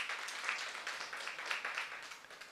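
Scattered applause from a small seminar group as the Chumphon team is welcomed, a soft, steady patter of hand claps with a few sharper accents, moderately distant and without voices.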